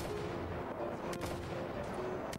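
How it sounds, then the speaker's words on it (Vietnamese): Gunshots crack in a Minecraft zombie apocalypse game, two sharp distant reports over a steady noisy game background. "Nghe tiếng súng bắn à"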